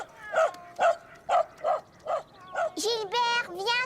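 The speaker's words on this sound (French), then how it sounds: "Caillou avait un peu peur du chien" A cartoon dog gives a quick series of short, high yipping barks, about one every half second, then a few whiny, drawn-out yelps, moderately loud and close.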